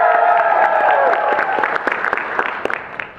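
Audience at a DragonCon convention panel on urban fantasy applauds, with a voice heard at first, then the clapping thins out into scattered claps as it fades.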